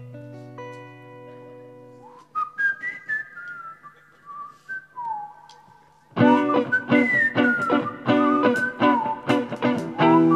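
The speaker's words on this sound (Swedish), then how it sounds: "Nu, mina damer och herrar, ska ni få höra hur jag visslar." A performer whistles a tune at an outdoor courtyard culture event, with a sustained melodic line at first, then a busier passage over musical accompaniment that grows louder toward the end.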